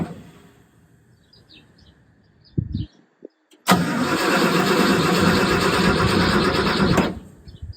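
A 1974 Ford F350 truck engine turns over: a few short attempts, then a loud continuous cranking for about three seconds before it cuts off abruptly, close up.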